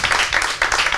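Brief burst of applause from an audience cheering three make-up contest candidates at a beauty competition, dense clapping at moderate loudness.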